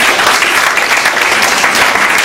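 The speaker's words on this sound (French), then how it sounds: "Acclamons le Seigneur." A church congregation applauding the Lord, dense continuous clapping from many hands filling the room at close range without a break.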